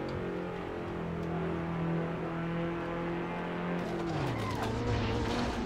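A KTM race car in the Assetto Corsa racing game drones along steadily, its engine note shifting as the tires skid and squeal near the end, with no talk heard.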